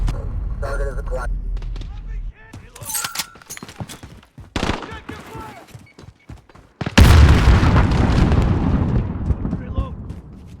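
Cruise missile strike explosions in a video game: scattered booms and gunfire-like bursts give way to a heavy, roaring blast about seven seconds in, which keeps rumbling loudly to the end.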